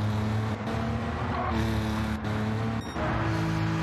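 Porsche race car engine revving hard and accelerating in a racing video game, a loud continuous droning roar with steady harmonic pitch that dips briefly and climbs again, filling the whole stretch without pause.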